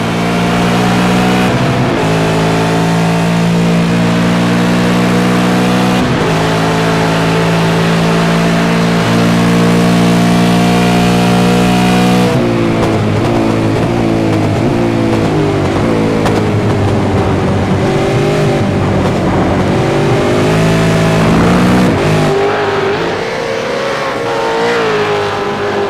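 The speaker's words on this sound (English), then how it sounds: "Let's enjoy this run down the back straight and have a listen to the engine note here." V8 race car engine at full load down the back straight at Road Atlanta, a loud sustained onboard roar rising in pitch through the gears with brief dips at each shift, no talk.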